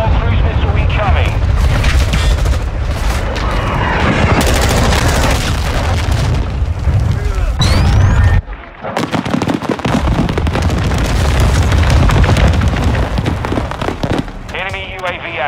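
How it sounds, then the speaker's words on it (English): A cruise missile strike with gunfire in the multiplayer beta of the Modern Warfare 2 video game: dense loud explosions and rattling bursts of fire crowd together almost without pause, with a brief lull midway and game voices calling out over the din. "Hostiles launched a cruise missile"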